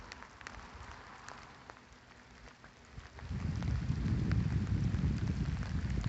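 Rain falling at night on a walk into downtown Ada, Michigan, in late December, a faint patter with scattered drops at first, then swelling into a louder, steady wash of rainfall.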